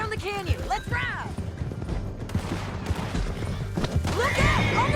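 Horses in Red Dead Redemption 2 whinnying over clip-clop hoofbeats and scattered gunfire, with voices calling out over the action.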